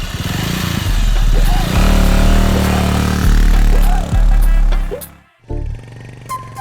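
A motorcycle engine revs loudly close by, its pitch rising and falling in repeated throttle bursts, then cuts out briefly before starting up again, with voices talking over it.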